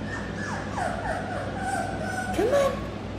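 Mini goldendoodle puppy whimpering in several thin, rising whines, the loudest near the end, over a steady low background hum.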